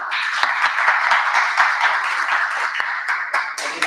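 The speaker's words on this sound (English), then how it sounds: "So let's give her a big round of applause." Audience applause at a Civil War roundtable talk in a museum, a dense, steady wash of many hands clapping close by, lasting several seconds with no speech.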